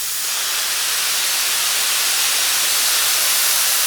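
Steady broadband hiss of a professional paint spray gun spraying with its fan opened wide, a continuous close, even rush of air and atomized paint lasting the whole stretch with no talk.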